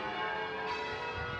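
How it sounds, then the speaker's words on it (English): Church bells ringing at Peterborough Cathedral, a dense, continuous wash of overlapping tones that stays loud and steady throughout. "You might struggle to hear me over the sound of the bells"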